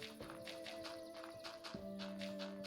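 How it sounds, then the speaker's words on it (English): Horse hooves clip-clopping at a walk in a video game, a steady soft rhythm of repeated hoof taps over a tonal background layer. "Lead on the horse."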